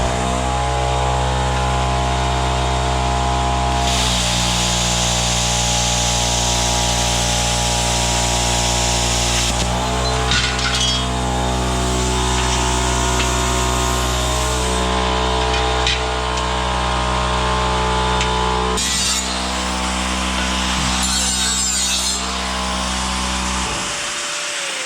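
A plasma cutter drags across a pipe with a steady, loud hissing roar and a continuous electrical hum, broken by brief crackles, running almost unbroken and sitting close.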